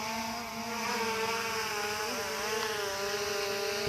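An SJRC F11s 4K Pro drone hovers close overhead above a street, its steady high-pitched buzzing whine loud and continuous throughout.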